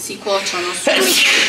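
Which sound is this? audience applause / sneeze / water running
sneeze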